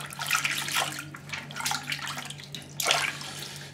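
A phone screen protector being washed in water with a little soap gives a few short bursts of splashing and trickling close by, with quiet gaps between them.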